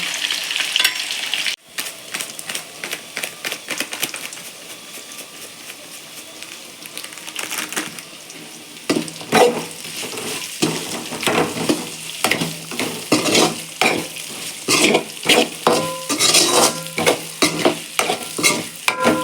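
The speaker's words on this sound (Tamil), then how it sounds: "நல்லா எண்ணெயிலே வதக்கணும்ப்பா தண்ணியே ஊற்றக்கூடாது" Spiced masala sizzles in hot oil in a pan, with no water added, while a spoon scrapes and stirs it in steady repeated strokes, close and fairly loud throughout with no talking.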